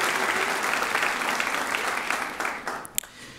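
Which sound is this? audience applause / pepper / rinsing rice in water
audience applause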